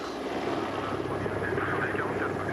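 A helicopter flies over a river search by gendarmerie divers, its steady rotor and engine drone filling the whole moment at a constant moderate level, with faint speech-like sounds mixed in.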